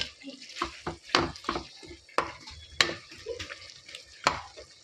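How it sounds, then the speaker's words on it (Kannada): Tomatoes for a white chicken biryani are stirred in a pan, giving a series of sharp scraping and tapping strokes, about a dozen irregular hits over faint frying. "ಸ್ವಲ್ಪ ಟೊಮೊಟೊ ಫ್ರೈ ಆಗಲಿ."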